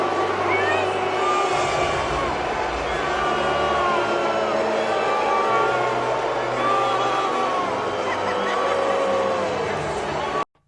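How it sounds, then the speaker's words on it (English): A large stadium crowd booing Trump, a dense sustained roar of many voices with drawn-out jeering tones rising and falling across the whole stretch, loud and continuous until it cuts off abruptly. "You just got crazy boos."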